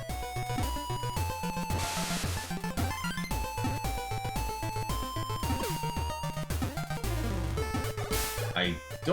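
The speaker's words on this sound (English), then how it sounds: "What you're hearing is the day and night music changing a bit." Busy electronic music from the video game Shantae with bouncing synth melodies and punchy bass notes, playing continuously and loudly as the day music shifts to the night music partway through.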